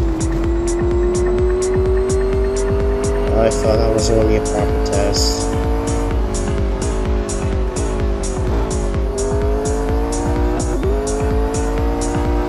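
A McLaren 765LT on a racing lap in Real Racing 3, its simulated engine wailing loud and steady with repeated gear shifts and rising pitch, tire noise underneath, while someone talks over the car's sound.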